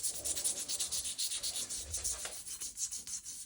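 A gas blowback airsoft magazine part is polished by hand with quick, rhythmic rubbing strokes, about six per second. The scratching is close and faint, and no one speaks.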